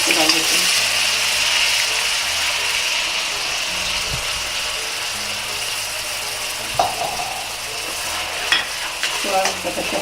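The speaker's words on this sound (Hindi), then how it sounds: "तेल हमारा गरम है, हमने तेल पहले ही गरम कर लिया था। अब हम पेस्ट को डाल देते हैं।" Spice paste hits hot oil in an iron kadai while cooking spicy aloo gobhi, giving a broad steady sizzle with occasional stirring scrapes and spatters throughout.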